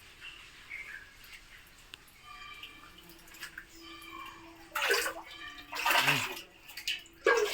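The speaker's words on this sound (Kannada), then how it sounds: "ಬಂಡೆಯ ಮಧ್ಯದಿಂದ ಬೇರಿಂದ ನೀರು ಜಿನುಗ್ತಾ ಇದೆ" Water seeps from between rocks and roots into a small pond at an old Shiva shrine at Kallur; scattered single drips land first, then a few louder splashing bursts, with faint bird chirps in the background.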